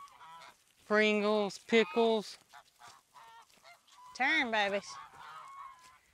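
Geese honking loudly and close by at a new pond, several strong honks in bursts with quieter calls between, while a person talks to them.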